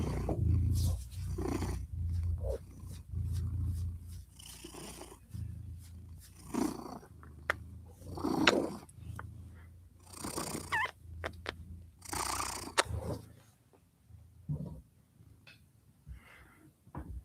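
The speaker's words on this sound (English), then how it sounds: "Come purr for your people." A house cat purrs softly and close over several seconds, its low rumble coming and going amid faint rustling and handling noises in a quiet room.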